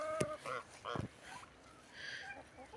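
Domestic hens in a backyard coop give a few short, faint clucks and squawks in quick succession, close by with some soft ambient noise.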